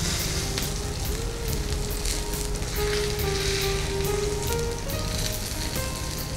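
Stuffed fish frying in a pan gives off a loud, steady sizzle with dense crackling throughout, close and continuous with no talk.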